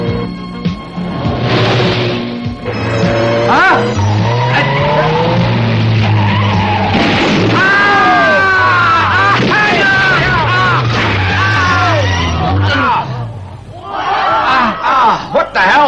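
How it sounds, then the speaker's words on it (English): Tires skid and squeal at length as a truck crashes into a car in a 1982 animated police film, with loud screeching, engine roar and impact noise, and a brief spoken exclamation partway through. "Damn truck there hit my car!"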